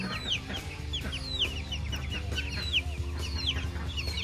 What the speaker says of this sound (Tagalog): Dito pala nilagay yung iba ng mga chicken